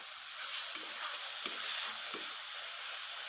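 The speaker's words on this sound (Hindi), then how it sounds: "तब तक मसाला मैं फ्राई करती हूँ" Masala paste of onion, garlic, ginger, tomato, green chili and ground spices frying in oil, a steady quiet sizzle with a few soft stirring clicks, close by and without talk.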